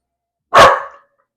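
A small dog barks once in a home kitchen, a single sharp, loud, close bark that decays quickly, otherwise silent.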